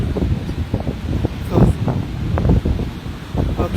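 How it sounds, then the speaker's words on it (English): A steady breeze at Cattlewash beach on a breezy morning, buffeting the microphone with continuous low rumbling gusts, with murmured voices nearby. "It's a lovely breezy morning."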